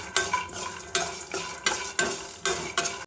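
Coriander seeds and cumin fry in a pan, crackling and sizzling while a utensil stirs in regular sharp scraping strokes, about seven of them over a few seconds, close up with no talking.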